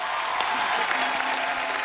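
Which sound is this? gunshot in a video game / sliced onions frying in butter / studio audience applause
studio audience applause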